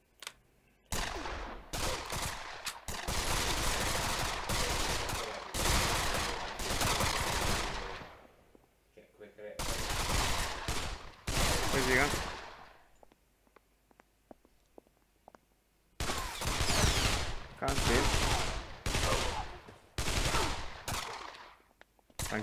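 Rapid automatic gunfire from a VR shooter game played on a Vive comes in loud bursts of several seconds, separated by quieter gaps.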